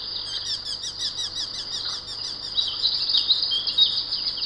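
Dense riverside foliage rings with a steady chorus of small birds, rapid high repeated chirps and trills overlapping continuously at moderate distance, with faint background hum and no voices.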